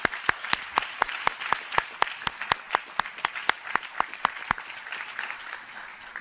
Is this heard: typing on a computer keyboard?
no